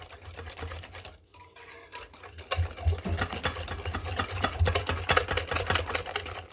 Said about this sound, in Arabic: هنزل بقى حبيب قلبي كوبايه السكر البودر بتاعتي، دوبها بقى مع البيض